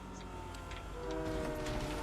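A train rumbles in the Fortnite video game, a low continuous mechanical drone with faint higher whistle-like tones, quiet and swelling slightly louder in the second half, with no talk.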